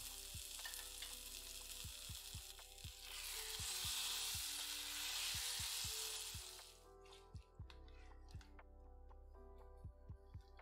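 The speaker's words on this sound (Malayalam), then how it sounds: "വറുത്ത തേങ്ങ കറിയിൽ ചേർത്ത് നന്നായിട്ട് ഇളക്കുക" Roasted coconut being stirred into kootu curry in a pan, with a loud bubbling sizzle early on that fades out, followed by repeated close scrapes and taps of a spoon against the pan.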